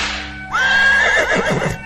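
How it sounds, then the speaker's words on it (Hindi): A horse gives a loud, close whinny that rises and holds a wavering pitch for about a second, then breaks into shorter falling calls, with no whip crack evident. "गाड़ी वाले ने चाबुक चलाई और घोड़ा गाड़ी दौड़ गई।"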